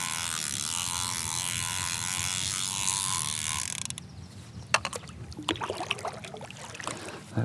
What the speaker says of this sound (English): That reel is a little bit noisy, isn't it?